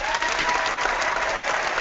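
A crowd claps enthusiastically in sustained applause, dense steady patter of many hands with brief dips, fairly close and loud, with no distinct speech.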